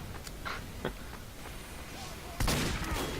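Sniper and other gunfire in a shooter video game: scattered muffled shots early on, then a louder burst of firing near the end, under a steady game background with some voice present.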